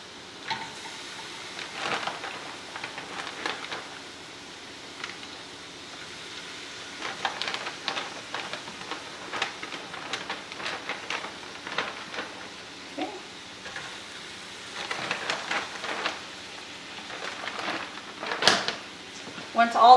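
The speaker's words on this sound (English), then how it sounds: "So we're going to go ahead and add our meat to the pan. You can get that sizzle." Flank steak sizzling in a hot pan, a steady crackling hiss with scattered louder pops and clatter as pieces are added, continuing under intermittent talk.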